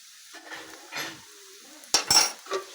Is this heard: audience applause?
no